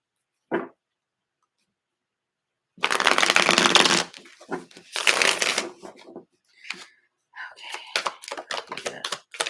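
A deck of cards being shuffled up close in several loud, crackling riffling bursts separated by short pauses, with a brief tap early on and a quieter patch of handling sounds in between.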